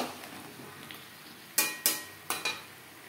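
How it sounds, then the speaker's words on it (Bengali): A spoon mixes vegetables with salt, turmeric and spices in a pan for a Bengali mixed-vegetable dish. Four sharp metallic scrapes and clinks sound close against a soft background hiss. "সবজির সাথে লবণ, হলুদ ও মশলা বেশ ভালো করে মিক্সড করে দেবো।"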